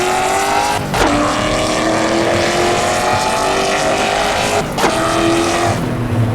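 Ford Mustang GT V8 exhaust in the racing game Assetto Corsa, a loud continuous engine roar holding a steady tone with two brief dips where the revs drop for gear changes.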